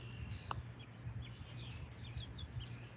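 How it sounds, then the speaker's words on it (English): Small birds chirp around a backyard feeder where a male and female with red heads and chests perch, giving faint, scattered high tweets over a steady low hum and quiet background. "Oh, look at the cute little birds."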